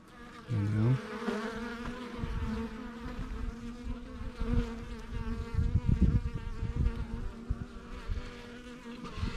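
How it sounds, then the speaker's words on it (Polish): A dense, continuous buzzing of many bees close by, a steady droning swarm with occasional louder passes near the listener. "Pszczoły spokojne, nie chcą mnie zeżreć."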